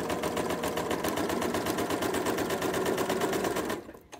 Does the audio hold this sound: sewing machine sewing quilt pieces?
yes